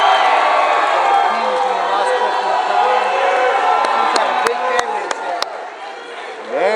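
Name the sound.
crowd cheering at a wrestling championship match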